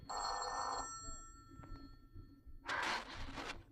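An old-fashioned telephone bell rings in an old-time radio drama, a bright metallic jangle heard in two bursts separated by a quieter pause with faint knocks, moderately close and with no talk over it.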